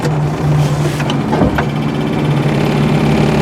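A manual car's engine idles during a driving lesson, a loud, steady close-up hum inside the cabin with one brief knock partway through.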